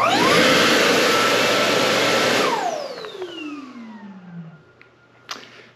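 An electric hand dryer in a women's changing room blows with a loud whooshing roar, then winds down in a falling whine after a couple of seconds, followed by faint clicks and a brief rustle.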